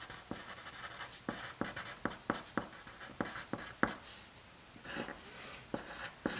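A pen draws lines on paper during a geometry lesson, heard as a series of sharp, close scratchy strokes in an uneven rhythm with brief pauses between them.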